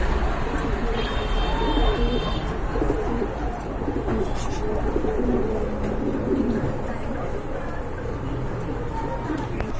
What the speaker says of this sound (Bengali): আরেক জোড়া কবুতর দেখতে পাচ্ছেন মাশাআল্লাহ